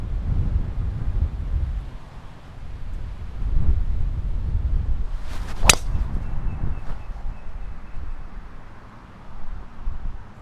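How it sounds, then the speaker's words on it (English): Gusty South Florida wind rumbles across a golf course, buffeting the microphone in a low, continuous roar that swells and eases, with a sharp crack of a golf shot cutting through midway. "it's a windy South Florida day"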